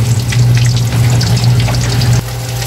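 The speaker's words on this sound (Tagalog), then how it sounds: "Hihintay na lang po natin maluto itong 6 na pirasong pritong dalagang bukid" Six pieces of dalagang bukid fish fry in hot oil, giving a loud, steady, crackling sizzle with no talking.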